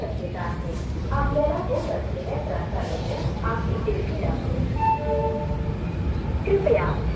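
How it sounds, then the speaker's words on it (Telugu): A train pulls out of Madgaon railway station with a steady low rumble throughout, and voices and faint tonal sounds ride over the top. "చూడండి మన ట్రైన్ అయితే స్టార్ట్ అయిపోయింది మడ్గావ్ రైల్వే స్టేషన్ అండి"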